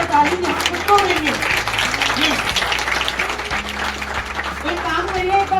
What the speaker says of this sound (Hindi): अब क्लैपिंग करिए अपने लिए